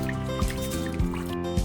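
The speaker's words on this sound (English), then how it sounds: "Take an appropriate amount of rice and pour it into a large bowl. Then add water. Rub and wash continuously with your hands." Rice rubbed and washed by hand in water in a large bowl, a close, steady wet churning and sloshing with soft trickles and a few heavier swishes.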